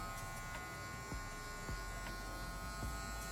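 Electric hair clipper buzzing steadily during a men's military haircut, a constant motor drone with faint intermittent contact ticks, close and alone without talk.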